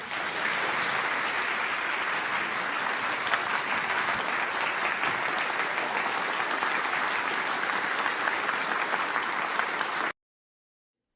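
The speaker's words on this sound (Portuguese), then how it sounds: "Tá aí André Mendonça sendo aplaudido na Alesp" Sustained, dense applause fills a legislative assembly chamber in São Paulo for about ten seconds, steady and loud from a large seated audience, then cuts off abruptly.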